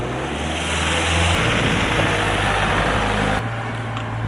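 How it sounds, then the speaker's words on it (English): A van drives past on an Assisi street, a medium engine hum and tyre rush that swells as it nears and passes close by, then fades, with no voices heard. "Just a nun driving a van there."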